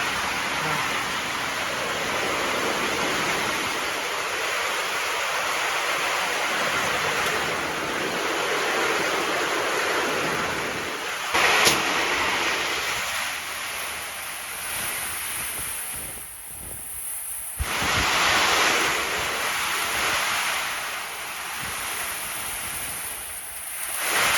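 Heavy rain pours down while strong wind roars and buffets the microphone, a dense, constant wash of noise with brief surges.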